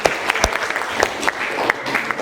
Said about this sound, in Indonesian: tepuk tangan dong untuk kelompok yang telah presentasi